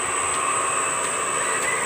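Electric motor running under a control panel setup, a steady continuous hum with a bright high whine held at even level throughout, close and unbroken.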